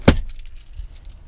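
A set of keys jangles once in a sharp close rattle, then fades into quiet rustling near a truck.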